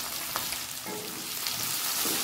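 Onions, green chillies, carrot and beans sizzle steadily in a hot oiled pan for semiya upma, with soft crackling and the occasional stir of a spoon, close up and alone.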